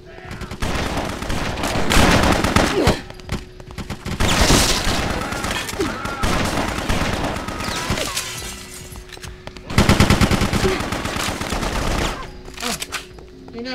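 Sustained bursts of gunfire and shattering impacts from combat in the video game BloodRayne, loud and dense, with rapid automatic fire in waves and brief lulls.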